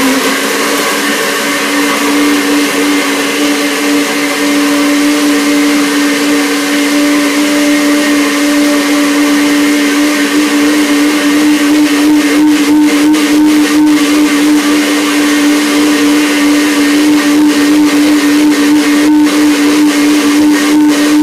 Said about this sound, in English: So a little bit of water I will put into the sauce, into the blender